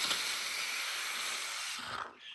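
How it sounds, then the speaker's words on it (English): A portable steam carpet and upholstery spot cleaner releases steam in a steady, bright hiss that holds for about two seconds before tapering off, with no talking. "Right now, I'm gonna use only steam."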